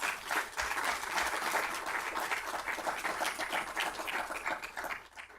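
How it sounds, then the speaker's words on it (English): Applause from an audience at a university academic year kickoff event, a fairly quiet but continuous patter of many hands clapping that fades slightly toward the end. "If I could have a round of applause."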